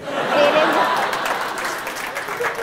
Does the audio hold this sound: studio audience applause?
yes